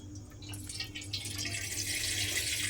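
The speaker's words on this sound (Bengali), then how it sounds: "এইবারে আমি এর মধ্যে দিয়ে দেব প্রথমে জল।" Water is poured from close by into a kadai heating on a gas stove, a splashing, trickling flow that builds steadily over a faint low hum.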